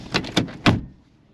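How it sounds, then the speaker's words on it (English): A door swings shut with a couple of quick rattling knocks before a firmer closing thud, close by, and then everything goes quiet. "first we're gonna shut whatever door I got open"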